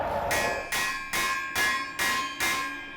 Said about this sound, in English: We're at that point where we're just hitting it with a hammer.